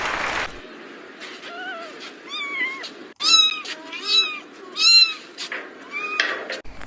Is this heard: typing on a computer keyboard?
no